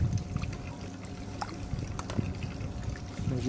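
Water draining through a shower plug from a DIY pool filter setup, an uneven close gurgle and trickle with intermittent splashes and clicks, heard without talk.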